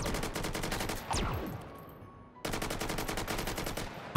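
Rapid automatic rifle fire rings out in the VR shooter Hot Dogs, Horseshoes & Hand Grenades: a dense burst, then a short lull with a fading tail, then another sustained loud volley.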